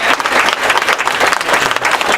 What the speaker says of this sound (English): they deserve a huge round of applause for being here